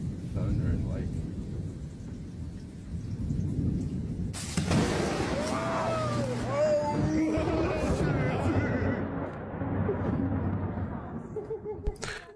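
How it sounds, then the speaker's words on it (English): Thunder rolls and rumbles during a thunderstorm, a loud crack landing partway through and then a long, deep, reverberating boom that slowly fades, with light rain hiss underneath and a few voices heard faintly. "It's just wicked thunder and lightning."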